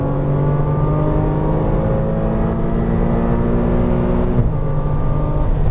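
A Porsche Cayman R pulls hard on a racing track, its engine note climbing steadily in pitch, then dropping sharply at a gear change before rising again, loud and close from inside the car with no talk.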